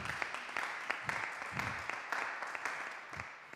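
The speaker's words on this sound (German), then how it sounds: "Ein kleiner Applaus." A small audience gives a brief, steady round of clapping at a talk on circular construction, the patter fairly faint and even, with a few sharper claps standing out.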